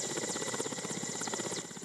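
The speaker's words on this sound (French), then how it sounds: "l'hélicoptère la transportant atterrit à l'aérodrome de la capitale du Ourodougou" A helicopter lands at the aerodrome in Séguéla, capital of Worodougou; its rotor beats in a fast, steady, loud chop with a whining engine hum throughout.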